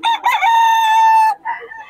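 A Boston gamefowl rooster crows once, loud and close, a sustained harmonic cock-a-doodle-doo that ends abruptly, followed by a brief softer trailing call.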